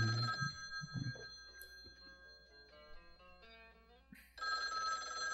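Telephone ringing indoors in a 1984 film, a faint electronic ring with steady tones under a quiet scene, returning louder near the end.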